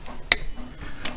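A torque wrench clicks twice, set to 6 foot-pounds on a clutch cover bolt of a 2008 Yamaha Raptor 250 ATV. The clicks are short, crisp, close and metallic, spaced under a second apart in a quiet room.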